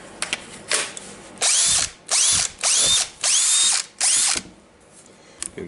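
Repaired Makita BHP458 cordless hammer drill running in five loud bursts of about half a second each, whirring and rattling with short pauses between them, close by and with no talk.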